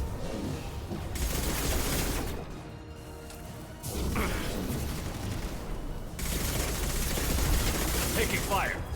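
Heavy gunfire in the video game Mass Effect Legendary Edition, long dense stretches of rapid shooting broken by a short lull, with occasional speech mixed in.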